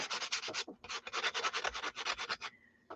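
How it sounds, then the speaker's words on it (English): Close, rhythmic sanding with a cheap foam sanding block: a quick run of scratchy back-and-forth strokes, a short pause, then more strokes, with no talking. "I'm just using the Dollar Tree block, sanding blocks"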